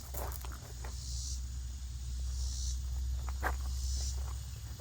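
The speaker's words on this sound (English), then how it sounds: "You hear the cicadas? I hear the cicadas." A steady high-pitched drone of cicadas swells and fades in slow waves over a constant low rumble, with a few faint clicks and no talking.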